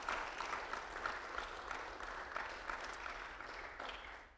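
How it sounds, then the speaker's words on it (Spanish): A church congregation gives sustained applause, a dense wash of many hands clapping at moderate distance that fades slightly toward the end. "No sé si usted da un aplauso al Señor por ser el ejemplo perfecto."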